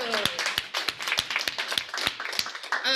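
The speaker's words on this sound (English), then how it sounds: "Can we get a round of applause for that?" Sharp, evenly spaced claps, about three per second, with a voice talking over them.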